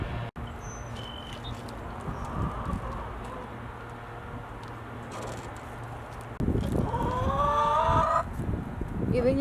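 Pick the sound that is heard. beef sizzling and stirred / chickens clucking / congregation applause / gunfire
chickens clucking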